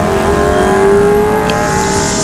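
Motorbike taxi engine droning through Thailand traffic, a loud close whine that rises steadily in pitch as it accelerates, surrounded by street noise with no talk.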